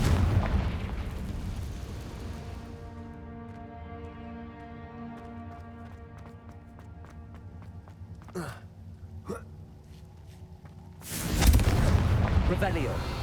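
Confringo spell blasts in Hogwarts Legacy: a sustained, loud magical whoosh and rumble with a ringing tonal drone, two sharp crackling hits near the end, then a heavy closing burst.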